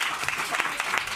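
Studio audience clapping for Nicolas Sirkis of Indochine, a short burst of scattered applause with a few distinct hand claps standing out.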